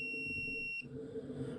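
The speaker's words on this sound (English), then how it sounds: "then it beeps at you saying that this is what it is" A pen-type smart multimeter electric tester gives a single steady high-pitched beep lasting under a second, clear and close, then cutting off abruptly into quiet room noise.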